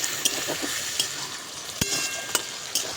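Tomato paste sautéing in a pan with fried onion, ginger and garlic for an egg dish, a steady close sizzle broken by several sharp scraping stirs and utensil knocks.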